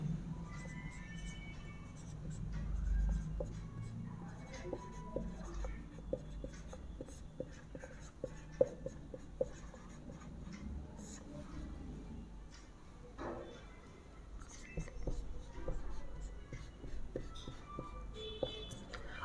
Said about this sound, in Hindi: लिखते हैं।